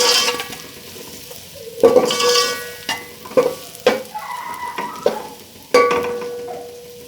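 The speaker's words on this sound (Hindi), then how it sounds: "और इसको मैं थोड़ा सा हिला लेती हूँ 1 से 2 बार, ताकि हमारे प्याज के साथ जो है ये मिक्स हो जाए।" Crushed spices stirred into frying onions for chana pulao, a faint background sizzle broken by several sharp scrapes and clinks of a spoon against the pot, close and intermittent, no voices.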